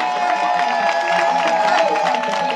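Crowd at a political rally in Bizango applauding a candidate, a steady dense wash of clapping and cheering with a few shouts, held at an even level for the whole moment.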